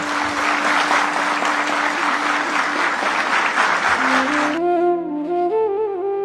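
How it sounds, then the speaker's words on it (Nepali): Applause at Nepal Police headquarters as the home minister stands and claps after the inspector general's emotional address. A thick, even crowd clapping fills most of the stretch, then breaks off abruptly into sustained tonal music. "गृहमन्त्रीले उठेर बजाए ताली।"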